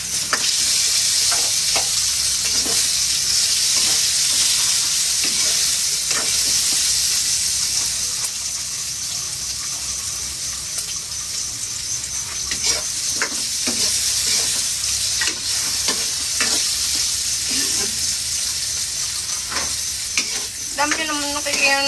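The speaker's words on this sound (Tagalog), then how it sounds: "Prito lang to, oh. Prito." Steady sizzling of food frying in a pan, with occasional stirring clinks and scrapes over a constant hiss.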